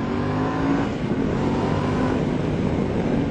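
A Yamaha Tenere 700 motorcycle engine runs loud and close, a steady throaty drone with slight swells of revving and wind noise, no voices over it.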